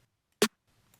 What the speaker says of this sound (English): I'm doing this one snare